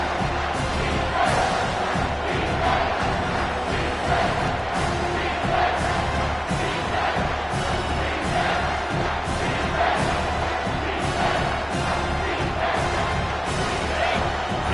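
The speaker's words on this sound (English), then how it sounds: "Here comes this home crowd as the defense tries to get off the field on 3rd down" A home crowd roars at a Utah vs. UCLA college football game as the defense tries to get off the field on third down, a dense, steady wall of cheering and shouting that stays loud throughout.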